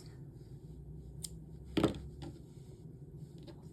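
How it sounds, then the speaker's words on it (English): A single quick snip of scissors cutting crochet yarn, close and crisp, standing out briefly from a quiet room with a faint word spoken nearby. "Take your scissors,"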